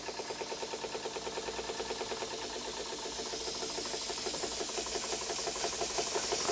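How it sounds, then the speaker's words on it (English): A Cooper Brothers Model 2508 model steam engine chuffs slowly and steadily, a regular mechanical beat with hissing steam that grows slightly louder and busier toward the end. "It's always nice when you can get the engines to run slowly"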